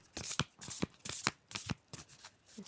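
Playing cards being shuffled by hand, a series of quick riffling bursts in a steady rhythm, close and fairly quiet, with no talking.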